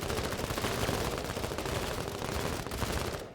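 Sustained automatic gunfire in a shooter video game, a dense continuous rattle of shots at steady loudness throughout, with no pauses until it trails off at the very end.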